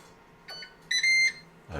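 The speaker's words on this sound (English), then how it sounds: "A nice loud beep to alert you." A short electronic beep-beep from a Ninja Foodi appliance signalling finished toast, two bright tones in quick succession, loud and close against a quiet background.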